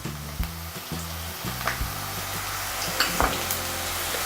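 Ridge gourd curry ingredients fry in a pan with a steady low sizzle, with a few faint stirring clinks over a background hum and no talking.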